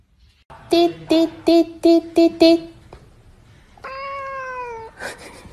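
A quick run of six clipped meows in a steady rhythm, then one longer drawn-out meow, like a voice playfully imitating a cat.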